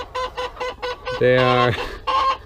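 Backyard chickens cluck in a quick series of short calls, then one drawn-out, squawking cry before another brief cluck, close and loud, with someone speaking briefly.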